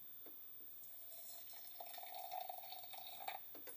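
Hot water poured from a kettle onto ground coffee for the bloom, a soft trickling stream that grows steadier and a little louder midway before tapering off.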